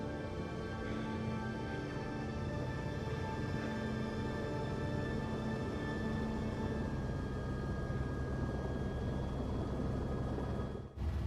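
A helicopter in the Resident Evil 3 video game gives a steady, droning engine hum with sustained tones that stays constant and then cuts off abruptly near the end.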